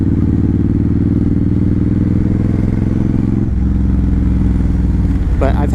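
Suzuki M109R Boulevard 1800cc cruiser motorcycle with Cobra side-swept exhaust, a loud deep steady engine drone that shifts in pitch partway through as the bike changes speed, with a voice talking over it near the end.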